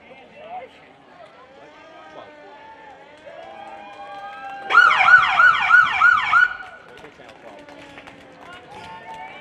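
An ambulance siren wails through a small-town Fourth of July parade, rising and falling in several quick cycles for about two seconds, loud and close, with talk underneath before and after.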